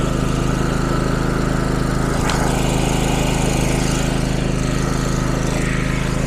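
A Bohmer-AG W series portable petrol generator, 6500W class, runs at a steady, loud, droning hum with constant vibration and no change in pace, close to the listener.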